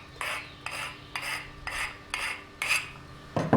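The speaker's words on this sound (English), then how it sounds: "after we cut it, we got to get the burrs off here" Freshly cut aluminium tube being deburred, six evenly spaced rasping scrapes in a steady rhythm, close and moderately loud with no talking.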